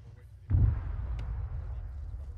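A grenade explosion in the Arma 3 military video game during a joint combined-arms operation: one sharp, heavy thump that is moderately distant, followed by a lingering rumble and low background noise.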